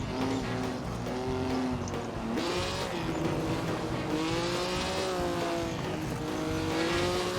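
1955 Formula 1 race cars in Assetto Corsa, a steady close engine drone with rising and falling pitch as the cars accelerate and shift on the Argentina circuit, heard alone without talk.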